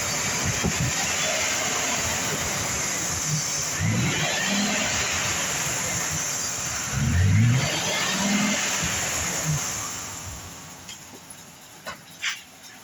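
A 2005 Ford Excursion engine runs in forward gear on a stand, giving a steady, moderately loud drone with a couple of swelling surges midway and a few brief knocks near the end.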